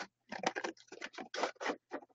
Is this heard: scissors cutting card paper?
yes